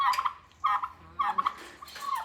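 Poultry on a Costa Rican ranch cluck and call in repeated loud bursts close by, with gobble-like squawks rising and falling over a low background hum.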